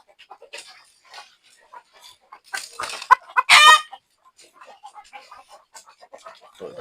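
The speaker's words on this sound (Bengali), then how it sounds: "তো এটা হচ্ছে আমার সিল্কি মোরগ" Silkie rooster and chickens give brief clucks and calls, with a louder burst of squawking near the middle, set among scattered voices and other animal noises in a poultry yard.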